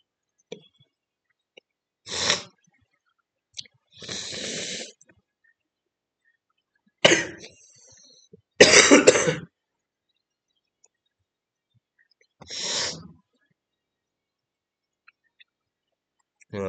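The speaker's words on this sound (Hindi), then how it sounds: "जरा तबीयत खराब थी तो खांसी आ गई" A man coughs in several separate harsh bursts spaced across a quiet stretch, each burst short and close with silence between them.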